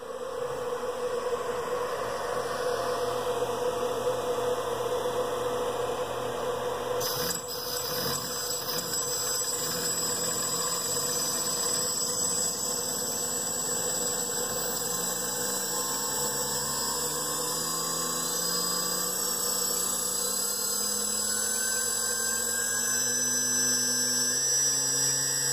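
A Gerard Morin magnet motor spinning up and running, heard as a continuous hum with a steady background hiss. Tones rise gradually in pitch as it gains speed over the second half, with no talking.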